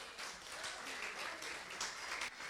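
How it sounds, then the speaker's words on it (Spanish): Church congregation applauding, a brief, steady wash of clapping from many hands with voices mixed in, moderately distant and without distinct individual claps standing out. "denle un aplauso a Dios"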